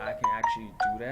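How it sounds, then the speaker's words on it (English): A mobile phone ringtone plays a few bright electronic tones in quick succession while a person speaks over it. "That's my phone going off."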